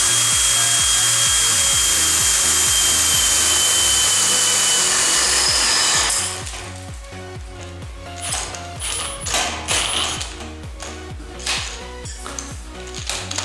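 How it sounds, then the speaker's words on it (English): A power drill bores into a wooden pinball playfield: a steady high motor whine runs first, then gives way to rough, uneven grinding and chattering as the bit bites, loud and close. "when the drill starts turning, it'll end up in that hole"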